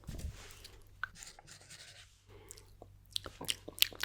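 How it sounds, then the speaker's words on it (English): A pen scratches across paper in quiet, close strokes, with short pauses and a few sharper ticks, in a calm Hogwarts hospital-wing roleplay setting. "write that down"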